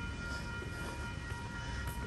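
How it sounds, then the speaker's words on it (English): An ION light rail train passing, a steady low rumble of wheels on track with a faint high whine, continuous and fairly distant, with no talk. "The Ions are real trains, but yep, it's just a fucking Ion."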